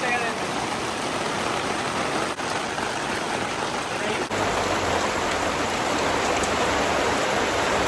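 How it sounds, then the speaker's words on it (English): Heavy rain pours steadily onto a backyard during a concrete slab pour, a dense, loud, continuous hiss with no breaks. "It's raining way too much."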